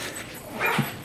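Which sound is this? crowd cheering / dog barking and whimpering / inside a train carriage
dog barking and whimpering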